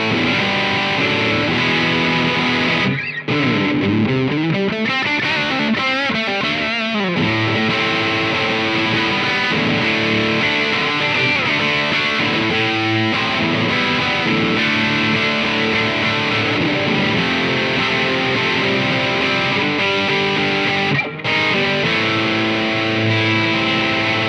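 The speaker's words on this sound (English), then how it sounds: "So there you go, that's the sounds of the GT500." Fulltone GT500 distortion and boost pedal driven by a single-coil electric guitar, playing a loud, sustained, saturated riff with continuous chords and note runs and only brief pauses, and no talking.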